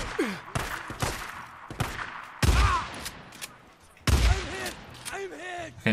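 Shotgun blasts in Days Gone ring out as several loud, sharp shots spaced a second or two apart, with someone talking and exclaiming between them.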